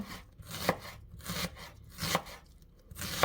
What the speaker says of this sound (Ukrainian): Нарізаємо ось такими половиночками. Бажано тоненько нарізати.